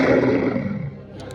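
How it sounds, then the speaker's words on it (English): A deep synthesized T-Rex roar comes from an interactive museum dinosaur exhibit. It is a single loud, brief blast that fades out within about a second. "Here is a little interactive experience where you can create your own T-Rex roar"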